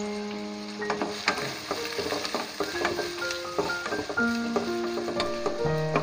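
Chopped big onions sizzle and fry in a pan with salt while a spoon stirs and scrapes, clinking against the metal in an irregular rhythm under a steady close hiss; no voices.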